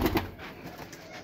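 A Kasuri pigeon, a red-eyed golden breed kept in Lahore, Pakistan, coos softly twice in quick succession at the start, followed by faint low rustling.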